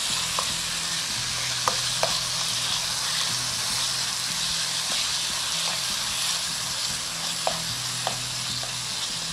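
Spiced masala frying and being stirred in a pan with eggplant for baingan ka bharta, a steady close sizzle and hiss with occasional spoon scrapes and clicks, no talking.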